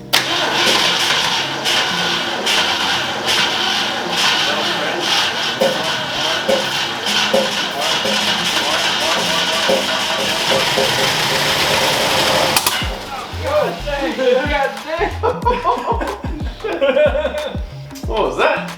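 An abandoned Ford Mustang project car that has sat for years cranks and fires up, its engine revving loudly and steadily before dropping into rough, uneven sputters and bursts, with voices talking nearby.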